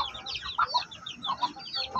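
Chickens clucking inside a brooding cage, a few short, close clucks and soft calls in a quick irregular string, with no voices.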